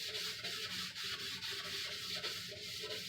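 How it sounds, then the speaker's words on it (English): A green kitchen scrubby rubs across a rough, dry wooden surface for a garden shed in steady, rapid back-and-forth strokes, a continuous close abrasive swishing. "so I just grabbed this green scrubby. It's a green kitchen scrubby, and I keep it with my sanding tools."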